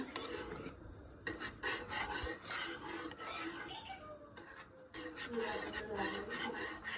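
A spoon scrapes and rasps repeatedly against the pot while stirring thickening maja blanca, close and fairly loud, with occasional clinks.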